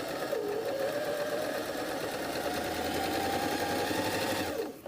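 A sewing machine stay stitches a patch pocket, running at a steady fast hum with rapid needle clatter, close and continuous, then stopping abruptly at the end.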